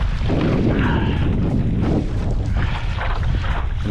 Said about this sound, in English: at least the wind is in my face